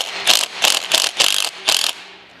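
Five sharp ratcheting bursts as a hand ratchet loosens a 3/8 bolt on the pulley of a Cub Cadet 2x 24 snow blower, each rapid clicking stroke close and loud with brief pauses between.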